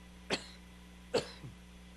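Two short, dry coughs come close to the mic about a second apart, the second followed by a faint throat-clearing rasp, from someone who still has a lingering cough.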